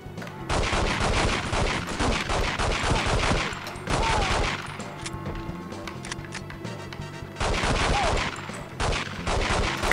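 A pistol fires in rapid repeated bursts in the video game 007 The World is not Enough. The shots are loud and come in several long volleys with short pauses between them.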